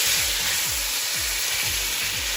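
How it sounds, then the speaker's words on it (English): Shrimp with black pepper and garlic powder sauté in hot olive oil in a wok, a dense, continuous sizzle filling the space from start to finish, with low scraping thumps as the pieces are stirred. "Letting the shrimp nicely saute with the seasoning that I added"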